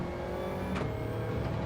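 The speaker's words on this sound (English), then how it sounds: "Just sounded like the engine in my car." A car engine revs steadily in a racing video game, a continuous droning whine with no voices over it.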